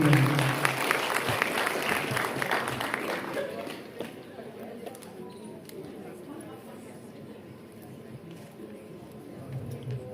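Audience applause welcoming singers at a stage event, a dense clapping wash that is loudest at the start and then thins to scattered claps and crowd murmur.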